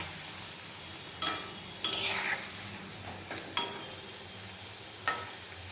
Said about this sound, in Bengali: কিছুটা আমি ছেড়ে দিলাম তেলের মধ্যে।